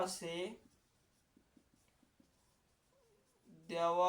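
A teacher writes on a board during a Bengali secondary-school physics lesson on motion: a few faint, quick scratchy taps between stretches of speech at the start and end.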